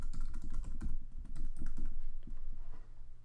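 Rapid keystrokes on a computer keyboard while a password is entered during GitHub account signup, a close, fairly loud run of clicks with a brief pause midway, no voices.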